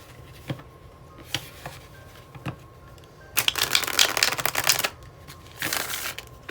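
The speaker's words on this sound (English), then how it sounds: "So, I'll let you hear how these cards shuffle and see how well they do." Tarot de Marseille cards with good, medium-stiff cardstock being shuffled by hand: scattered soft riffles and taps, then two long, loud bursts of riffling close to the listener, with no talk.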